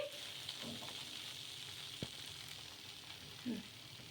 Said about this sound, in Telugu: మనం మీడియంగా పెట్టుకొని కాల్చుకోవాలి ఈ దోశ